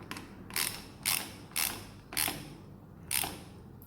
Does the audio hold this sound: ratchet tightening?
yes